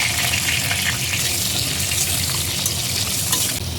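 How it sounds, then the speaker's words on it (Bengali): Mixed vegetables frying in hot mustard-style oil tempered with five-spice, a steady loud sizzle with stirring, continuous and close throughout with no talking. "এক এক করে সব সবজি দিয়ে দিলাম।"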